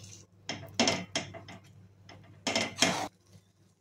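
Gooseberry (amla) candy mixture is stirred with lemon juice in a pot: a close, rhythmic series of scraping and clinking strokes as a spoon works against the vessel, each stroke separated by brief pauses.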